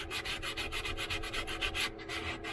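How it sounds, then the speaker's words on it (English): Rhythmic back-and-forth scratching of a sanding block on a hand-carved wooden spoon, steady strokes close by with no talking. "So we move back to our sanding block."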